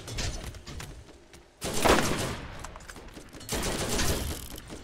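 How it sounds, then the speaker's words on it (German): Bursts of assault rifle fire in the video game Borderlands: short rapid volleys, a quieter opening stretch, then two louder sustained bursts with brief pauses, dense and close. "ich wollte ja meine neue Assault Rifle ausprobieren"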